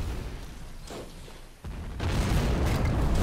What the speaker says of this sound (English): Wonderful airburst rounds.